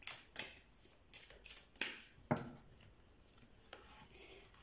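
Tarot cards shuffled by hand before a reading, giving soft papery riffles and flicks in several short bursts, close but quiet, with no speech.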